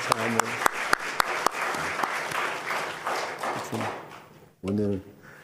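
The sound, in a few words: congregation applause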